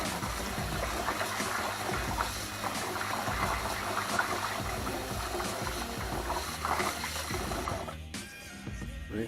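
Water swirls and sloshes around basmati rice in a bowl during rinsing, a continuous churning splash that stops abruptly near the end.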